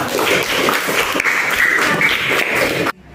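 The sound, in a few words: applause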